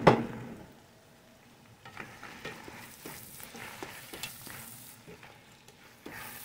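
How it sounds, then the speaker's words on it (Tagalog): Chicken gizzards and hearts fry in a pan for calderita, a soft sizzle broken by repeated stirring clatter and utensil scrapes against the pan after a brief clunk at the start, fairly quiet and without talk. "Lagay na natin ang chicken gizzard at ang kanyang mga puso."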